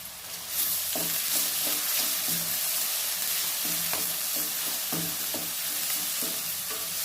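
Onions sautéing in a pan, a loud continuous sizzle broken by rhythmic scraping strokes of a spoon, close and alone with no talking.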